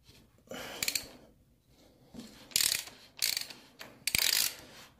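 A ratchet wrench loosens a 19 mm bolt on a Suzuki DR650 motorcycle, with several bursts of rapid metallic clicking separated by short pauses, close and fairly loud and without talk.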